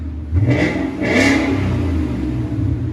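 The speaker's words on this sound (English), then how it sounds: "always Mustangs with the FLOWMASTER 40, they get such a distinctive sound" Ford Mustang GT with the 5.0L Coyote V8 and a Flowmaster 40 exhaust revs up close by, two rising blips of throttle followed by a sustained loud, deep drone that holds through to the end.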